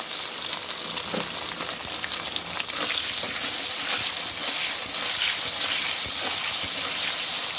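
Spices and turmeric frying in hot oil in a home kitchen give off a steady, dense sizzle that crackles throughout, with faint stirring scrapes and no talking.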